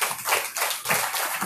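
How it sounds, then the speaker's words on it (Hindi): Audience applause at a spiritual discourse gathering in Noida: a dense, steady wash of many hands clapping together, fairly loud and sustained, swelling and dipping in short waves. "ताली क्या बजा रहे हो?"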